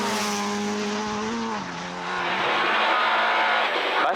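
A Rentokil Initial Mark II historic rally car with a 2.4 litre engine sliding on a rally stage, its loud engine dropping in pitch, then climbing again with tyre scrub in one continuous close pass.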